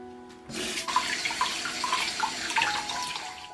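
Razor clams are rinsed under a running tap, a steady close rush of water with small clinks and splashes as the shells are handled, no voices.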